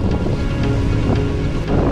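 Wind buffets the microphone while cycling along the IJsselmeer shore in the Netherlands on a bikepacking tour, a steady loud rushing roar with gusty flutter filling the whole stretch, no voices.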